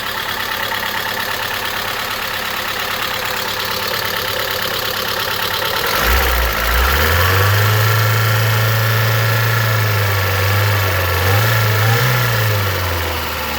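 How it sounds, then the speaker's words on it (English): A Suzuki Forenza engine idles after a head gasket repair with a steady rumble and a fast ticking chatter from noisy lifters; partway through a low droning hum joins in. "The lifters are a little noisy, but we'll let it run like this for a while."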